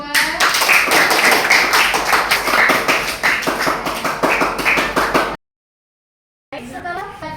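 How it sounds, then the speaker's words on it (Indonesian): A classroom group claps for a group of students, a dense burst of many hands applauding loudly and evenly for several seconds, then a brief silence before clapping and voices resume. "kita beri tepuk tangan dulu buat kelompok 2"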